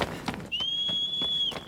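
A sustained, steady whistle calls the horse in Shadow of the Colossus, holding one clear pitch for about a second with faint brief ticks around it.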